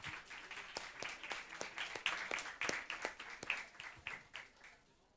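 A small audience at a digital-marketing meetup claps for a few seconds, scattered claps blending into steady applause that fades out at the end.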